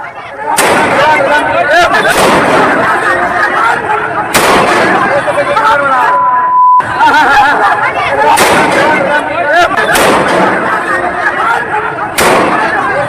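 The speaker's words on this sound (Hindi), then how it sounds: "नक्सलियों को संभालने के लिए पुलिस ने हवाई फायरिंग कर दी।" Police fire shots into the air to control a crowd of Naxalites in Bihar: repeated sharp cracks and bangs about every second or two over steady crowd noise and chatter, and a brief whistle-like tone partway through.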